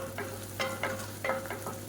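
Onions sizzle and crackle in hot oil with slit green chillies, a steady frying hiss and several brief stirring scrapes at irregular intervals.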